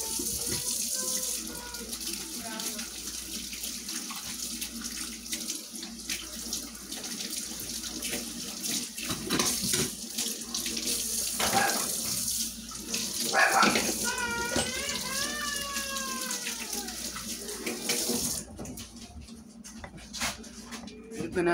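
Water runs from a kitchen tap as hands are washed, a steady splashing flow, close, with brief voice-like or animal sounds partway through before the water stops near the end.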